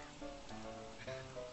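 Steady rain pattering down in the survival game Don't Starve Together, a continuous soft hiss over game background music, with no talking.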